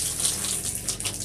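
Water runs steadily from a tap while a pet that smells of fish is bathed, a loud, close, continuous splashing gush with no talking.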